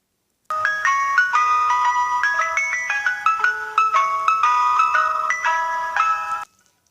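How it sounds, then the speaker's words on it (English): A bright, tinkling ice cream truck jingle plays a continuous electronic melody for about six seconds, fairly loud and alone, then cuts off abruptly. "Guys, I think I hear the ice cream truck."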